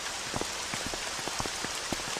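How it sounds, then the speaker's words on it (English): Rain falls steadily with scattered distinct drops tapping a surface over a dense hiss, alone with no voices. "It's raining."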